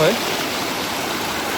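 Steady rushing roar of the Brahman Dev waterfall in the forest below a temple, a dense continuous wash of falling water, loud and unbroken throughout.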